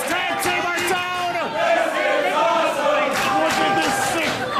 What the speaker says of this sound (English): Look at this sick crowd. They're saying it's awesome.